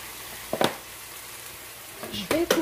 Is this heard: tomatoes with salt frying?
yes